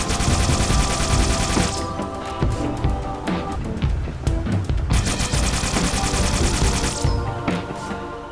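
Needler weapon from the Halo 3 video game firing in rapid bursts, dense crackling volleys of shots with bright hissing tones, loud and continuous over game background sound.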